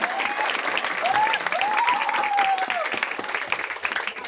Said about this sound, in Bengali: তাই সকলের জন্য একবার জোরে হাততালি।